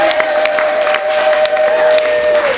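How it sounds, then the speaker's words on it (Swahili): A church congregation claps and ululates in praise at an Easter service, dense continuous applause with a sustained high trilling cry running through it, loud and close throughout. "Hebu mchapie Yesu makofi na vigelegele."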